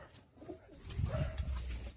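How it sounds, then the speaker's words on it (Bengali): Pigeons cooing inside a loft in Bengal, a steady throaty rumble of several birds calling close together, with wing and shuffling noises throughout. "দেখুন পায়রা দেখুন"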